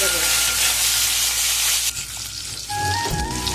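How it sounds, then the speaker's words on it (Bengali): Garlic sizzles loudly in hot oil in a kadai, a bright steady hiss that dips for a moment as it is stirred, with a few clinks of a utensil near the end. "আমি কড়াইয়ের মধ্যে তেলটা দিয়ে দিয়েছি, আমি এই রসুনটা দিয়ে দেবো"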